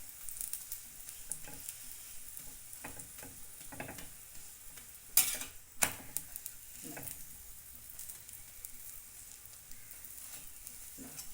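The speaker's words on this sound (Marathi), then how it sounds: "हे बघा आता मी साईडने तेल टाकते आता गॅस फास्ट केलाय मी" Oil sizzling on a pan over a gas flame as an aloo paratha fries, a steady close crackling hiss with a couple of sharper pops near the middle, no one talking.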